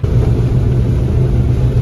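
Loud, steady low engine rumble of a semi truck hauling soybeans during harvest, heard close and continuous with a constant droning hum.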